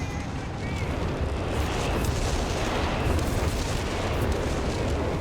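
Whizbang rocket artillery barrage in the video game Company of Heroes 3, a dense continuous roar of overlapping rocket blasts and rumbling explosions, loud and unbroken throughout.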